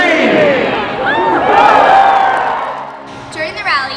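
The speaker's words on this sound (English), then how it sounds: "Hearing the crowd cheer as Oski ran across the stage and it was lit for the first time" A large crowd of almost 8,000 at a student rally cheers loudly as the Fiat Lux torch is lit for the first time, sustained whoops and shouts swelling and then easing off.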